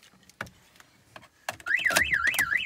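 A Pandora car alarm fitted to a modified Fiat 500 Abarth gives a few sharp warning chirps, then breaks into a loud, close, rapidly rising-and-falling siren wail.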